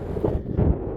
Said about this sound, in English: it's definitely a windy day today